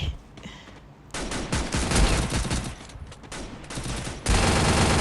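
Rapid bursts of gunfire from the Free Fire video game, loud and close, in repeated volleys separated by short pauses. A longer sustained burst comes at the end.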